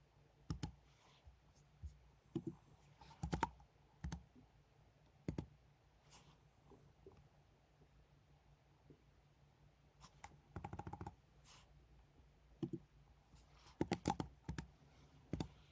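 Someone types on a computer keyboard in short, quiet bursts of key clicks separated by pauses, close and alone in a quiet room.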